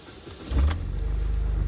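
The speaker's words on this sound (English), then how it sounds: "Fire up the engine." A 2006–2009 Pontiac Solstice engine cranks and catches with a brief burst, then settles into a steady, close, low idle rumble with no talking.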